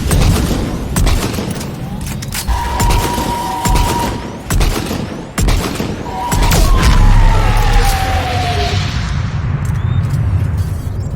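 Reaper harvester opening fire on Turian troops during a Mass Effect battle on Tuchanka, with heavy booming blasts and drawn-out whining energy beams over constant loud combat noise, shots repeating through the whole stretch.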